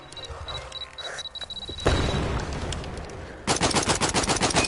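Video game gunfire during target practice at three targets: scattered shots at first, then a sustained loud burst of automatic fire and a dense rapid rattle toward the end, with no talking.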